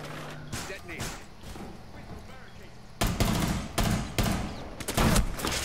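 Gunfire in Rainbow Six Siege: a quieter stretch of background shots and game noise, then several loud, close bursts of rapid fire over the last few seconds, with voices talking underneath.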